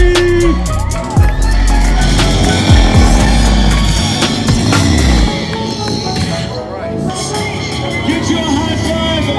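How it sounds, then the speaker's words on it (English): At the Busted Knuckle Stunt Show in Florida, a stunt rider surfs down the street on a Harley, its engine loudly revving and rising and falling in pitch. A crowd and voices can be heard around it before the engine fades. "King Tony can't come to Florida and not surf down the street on his Harley"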